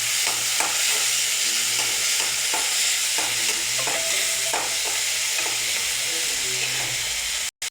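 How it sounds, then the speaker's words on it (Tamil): Onion and tomato sauté in a pan with a steady loud sizzle, overlaid by repeated scraping and stirring strokes at a regular rhythm, with a low hum underneath and the sound cutting off abruptly at the end. "நல்லா வதக்கிக்கலாம்."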